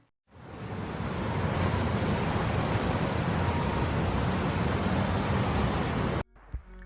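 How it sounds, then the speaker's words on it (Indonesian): Recorded road traffic noise played back as a steady wash of broadband rumble and hiss, holding at an even level for about six seconds before cutting off abruptly. "Simak suara lalu lintas tersebut ya."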